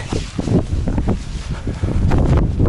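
Gusty wind buffets a mobile phone microphone outdoors on a hillside overlooking a bridge near Bergen, a steady loud rumble that swells toward the end, with no speech.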